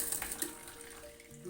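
Water pours out of a rock tumbler barrel after polishing, a faint, short, close trickle and splash.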